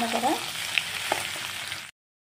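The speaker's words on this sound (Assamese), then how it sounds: "আলুখিনি দি অলপ ভালদৰে মিক্স কৰি দিম তেলৰ লগত অলপ টাইম ভাজি ল'ম" Potatoes frying in hot oil for a samosa filling, a steady close sizzle with a few stirring scrapes, no talk, cutting off abruptly near the end.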